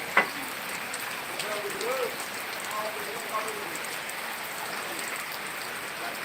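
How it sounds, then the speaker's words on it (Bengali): Steady rainfall pattering on surfaces, a continuous even hiss with scattered drop taps throughout and occasional faint voices in the background. "তো রহমতের বৃষ্টি শুরু হয়েছে"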